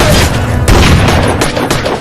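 Loud, chaotic gunfire erupts in a shootout between cartel gunmen and officers, with bursts of booming shots and sharp cracks piling over each other at close range.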